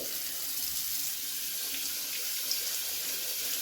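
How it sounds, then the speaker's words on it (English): Steady hot tap water runs into a sink over a stick vacuum filter being washed, a constant hissing splash, close by and fairly quiet, with no talking. "we're going to take our filter up to the sink and we're going to get some hot water"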